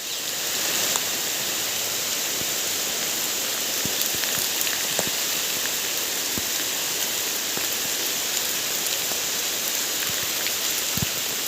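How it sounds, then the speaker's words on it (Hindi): Heavy rain pouring down steadily near a pond, a dense, continuous wash of hiss with scattered sharper drops striking close by, no voices. "पानी जो है वो बहुत ही तेज़ बरसने लगा है"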